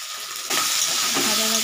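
Vegetables dropped into a hot kadai for egg chowmein: a sudden loud hissing sizzle bursts in and continues steadily, close and bright, with light clatter underneath.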